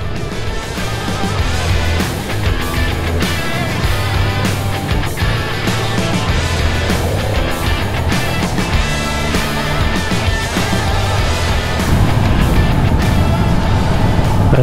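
A Yamaha MT-10 sport motorcycle with no exhaust fitted gives a steady, loud engine drone while riding, its pitch shifting slightly as it revs, with wind rush close throughout.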